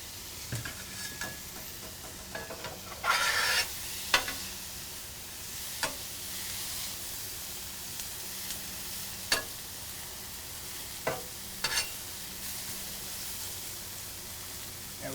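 Butter, peppers and onions sizzle on a hot Pit Boss griddle, a steady hissing fry with occasional sharp scraping and stirring clicks from a spatula, close and continuous with no talking.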